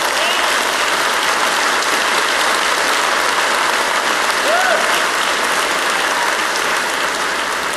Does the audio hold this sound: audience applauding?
yes